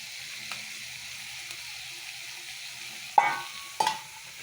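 Onion and ground dried fish fry in a pan with a soft, steady sizzle, broken near the end by two sharp knocks of a utensil against the pan.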